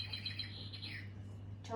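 A bird clock plays a recorded chaffinch call indoors, a short burst of bright chirps and trills heard close and fairly soft against a low steady hum.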